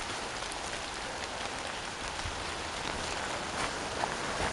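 Steady rain falls through a forest near an abandoned village, a dense, even patter on leaves and ground, close and constant with no voices.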